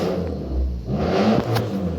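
A Lamborghini's engine revs nearby, a steady low mechanical roar with a few swelling pushes of throttle over two seconds, with no talking.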